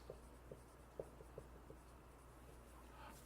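A pen writes equations by hand during a math lesson, with faint, close scratching strokes and a few small taps in a loose rhythm over a low steady hum.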